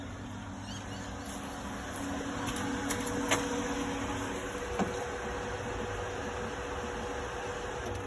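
A swimming pool pump running, heard up close as a steady mechanical hum and whir with a couple of faint clicks.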